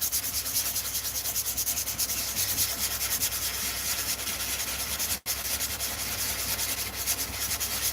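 Wood being sanded by hand, a loud, continuous rhythmic rubbing scratch of quick back-and-forth strokes close to the microphone, with one brief pause midway and no voices.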